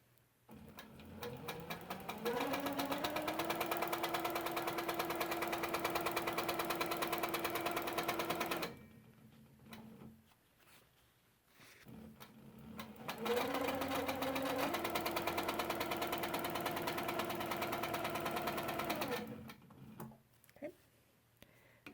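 A sewing machine runs in two long bursts of free motion quilting along a double arch border, its motor whirring up in pitch and holding steady, with quiet pauses between stitching runs.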